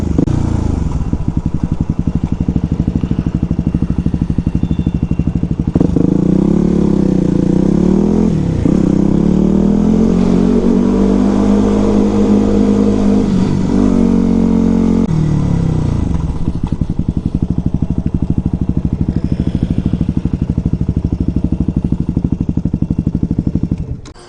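A Yamaha dual-sport motorcycle, a WR250R or TW200, rides along with a close, steady engine drone that climbs and falls in pitch as the throttle opens and eases, alongside constant wind rush.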